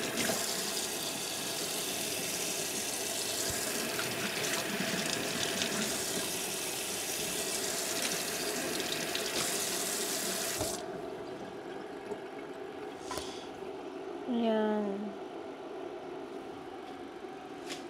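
Tap water runs steadily into a sink while lettuce is washed under it, a loud continuous rush that stops partway through and leaves faint clinks and quieter background sounds.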